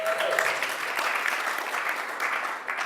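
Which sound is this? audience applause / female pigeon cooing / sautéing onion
audience applause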